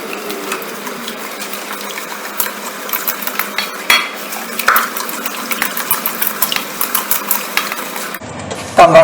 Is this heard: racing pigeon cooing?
no